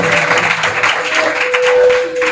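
A church congregation claps to welcome a speaker, a dense, continuous wash of applause lasting a couple of seconds and fading slightly at the end.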